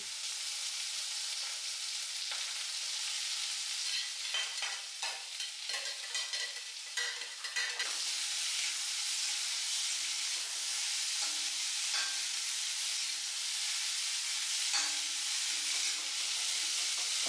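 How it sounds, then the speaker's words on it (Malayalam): Boiled young jackfruit and cowpeas are stirred into a frying pan with coconut oil, green chillies and curry leaves, giving a steady close sizzle with scraping spoon strokes, busier in the first half, no talking. "ഇതാ വേവിച്ച് നമ്മൾ ഊറ്റി എടുത്തത് ഞാൻ ചേർത്ത് ഇളക്കുക"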